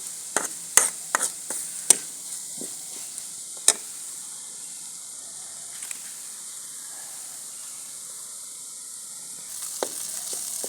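Masala spices roasting in a pan for village-style Punjabi chana chaat, a soft steady sizzle punctuated by a cluster of sharp spoon clicks and scrapes early on, then quieter frying.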